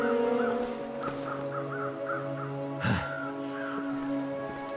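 Crows cawing in a canyon, a string of harsh repeated caws at mid distance, one louder nearer call near the middle, over a faint steady background hum.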